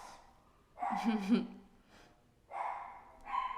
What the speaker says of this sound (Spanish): que se callen los perros